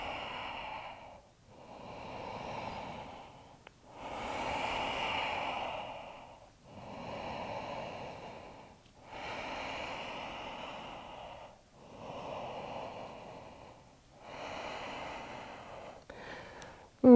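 Deep, slow breathing during a hatha yoga hamstring stretch, with about seven long audible inhale and exhale cycles, close and soft, evenly paced with short pauses between them.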